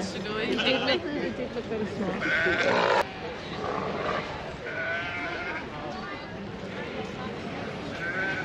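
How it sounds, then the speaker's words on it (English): Sheep bleating in the sheep pens at the Balmoral agricultural show, several loud overlapping calls near and farther off, with crowd chatter and voices throughout. "Now, so I'm just bringing you for a look round the sheep here."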